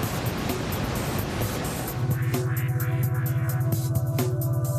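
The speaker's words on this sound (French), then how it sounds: "Les vagues normales sont générées par la poussée du vent" Ocean surf breaks in a continuous wash of wave noise, with a steady low hum and periodic clicks entering partway through, suggesting a boat or engine; no voices.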